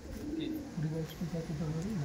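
A pigeon coos in a close, continuous rolling murmur of repeated warbling notes against a low background rumble.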